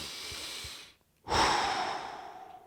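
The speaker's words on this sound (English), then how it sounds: "Take a deep breath." Breath drawn out, then after a brief silence a deep, loud inhalation through the nose, close and hissing, tapering off slowly.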